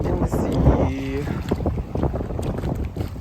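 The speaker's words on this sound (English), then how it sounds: "It's rather windy." Wind gusts across an exposed seaside spot, buffeting the microphone in rough bursts with faint surf behind, while a voice briefly hums or calls out partway through.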